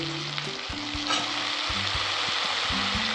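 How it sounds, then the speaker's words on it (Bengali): Thin slices of pointed gourd and potato fry in mustard oil, a close, continuous sizzle with stirring and no voices. "প্রথমে সরষের তেলটা দিয়ে দিলাম, তারপরে পাতলা পাতলা করে পটল আর আলু কেটেছি। এবার এটা লাল করে ভেজে নিয়েছি।"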